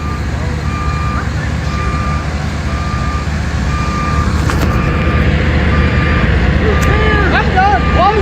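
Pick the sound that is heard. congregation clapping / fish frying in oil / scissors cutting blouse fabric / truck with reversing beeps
truck with reversing beeps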